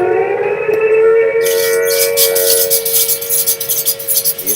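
Civil defense attack warning siren with a wavering tone, a loud rising and falling wail with a rhythmic pulsing warble, heard alone.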